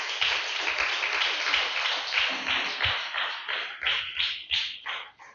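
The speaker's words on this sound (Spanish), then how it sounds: "Denle un fuerte aplauso al Señor" Loud, sustained applause from a church congregation, dense clapping continuing throughout and fading slightly toward the end.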